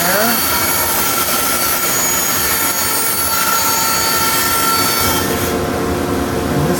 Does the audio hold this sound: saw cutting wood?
yes